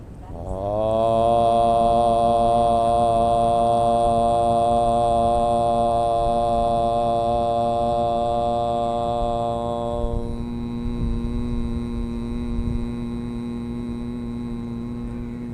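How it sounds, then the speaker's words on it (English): A yoga class chants the primordial sound Om together, one long sustained harmonic drone that holds steady and loud for about ten seconds before thinning into a quieter trailing hum. "we'll send it off with one primordial sound of Om"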